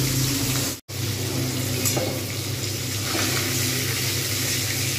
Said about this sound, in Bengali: এরকমভাবে 1 পিঠ হয়ে যাবে ভাজা, তারপর আমি আরেক পিঠে ভাজবো।